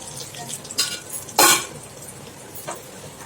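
Mustard seeds crackle and pop in hot oil, a few sharp spluttering bursts over a low sizzle, close by.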